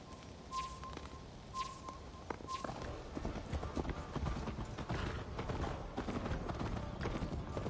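Horse hooves pound in a steady galloping clatter during a horseback race in a video game, close and continuous, with faint creaks and a few whistling tones early on and no speech.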